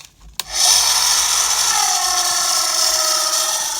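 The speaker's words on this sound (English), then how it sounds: "I have a nice little polishing wheel here that I use to polish stuff up." A small polishing wheel works on an RC car chassis, spinning up after a brief knock into a loud, steady whirring grind that holds for several seconds.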